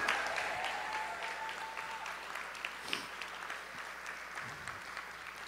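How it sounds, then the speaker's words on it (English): Broad clapping from a graduation ceremony audience for the class of 2022, holding fairly steady and slowly tapering, with scattered louder claps and faint voices in the crowd. "let's give her another big round of applause"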